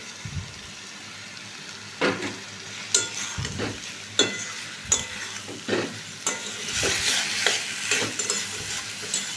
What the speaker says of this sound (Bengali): এবার এটা ভালো করে কষে নেব